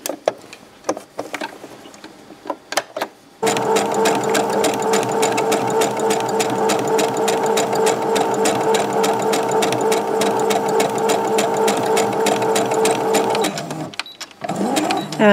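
A DS140 electronic sewing machine runs steadily for about ten seconds while stitching a t-shirt shoulder seam, loud and close, with a few small clicks and handling noises before and after.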